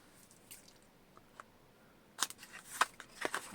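Scissors snip through a paper junk journal tag in a few short, crisp cuts, faint at first and then a cluster of sharper snips close by.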